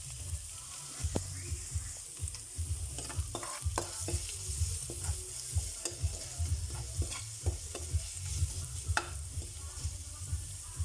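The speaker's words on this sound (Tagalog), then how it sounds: "Ayan po, magigisa na po tayo. Bawang, sibuyas." Garlic and onion sautéing in a hot pan, a steady close sizzle with repeated scraping and clinking of a spatula stirring in irregular rhythm, no talking.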